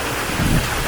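Heavy rain pouring down in Shanghai, a steady broadband wash of close, loud downpour with a low rumble swelling briefly in the middle.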